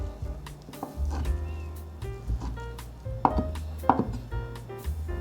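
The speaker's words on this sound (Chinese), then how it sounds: "把香菇切条，换一个方向切碎。" Soaked, softened shiitake mushrooms being chopped with a knife on a board: a run of irregular, fairly close knocks, with a few sharper strikes standing out, over a low background hum.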